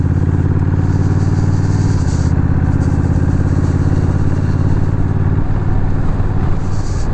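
A Honda Rebel 1100 DCT motorcycle rides along a gravel-strewn road, its engine a loud, steady throbbing drone with a slight shift in pitch partway through, close to the microphone, mixed with wind rush and no talking.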